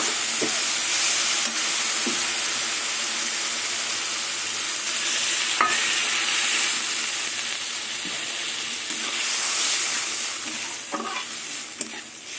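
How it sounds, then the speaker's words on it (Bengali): Spice masala fries in oil with eggplant and duck eggs while a spoon stirs it, giving a steady close sizzle with intermittent scraping clicks of the spoon against the pan across the whole stretch, and no talk. "মশলা কষাতে কষাতে তেল ছেড়ে দিয়েছে"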